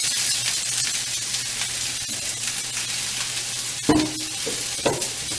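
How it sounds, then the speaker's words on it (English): Chopped onion, celery, Spam chunks and green pepper sauté in a pan over medium heat, a steady broadband sizzle with stirring scrapes and a couple of sharper clatters near the end. "We'll add that to our saute pan over medium heat. And then we're going to add our chunks of Spam and green pepper."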